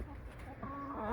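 Chickens in a backyard henhouse cluck and murmur at close range, with soft rising calls over a steady low background hum.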